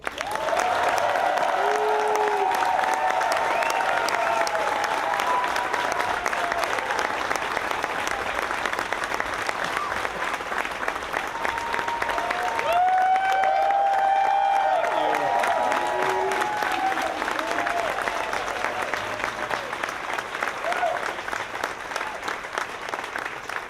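An audience applauds continuously to welcome Congressman Adam Schiff, dense steady clapping filling the room for over twenty seconds, with scattered cheers and whoops rising through it.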